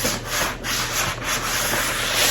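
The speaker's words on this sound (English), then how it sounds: "So I'm just hand sanding it" Close, continuous rasping of sandpaper rubbed by hand across a fire screen in quick back-and-forth strokes.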